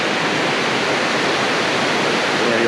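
Cascade Creek rushes steadily down toward Lake Chelan, a close, loud, unbroken wash of falling water with no pauses and no voices.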